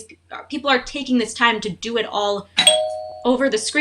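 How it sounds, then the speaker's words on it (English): A doorbell chimes partway through, a bright two-tone ding ringing out with a sustained tone over continuous close talking. "that was my doorbell"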